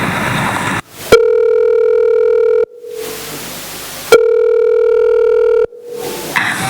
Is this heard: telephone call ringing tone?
yes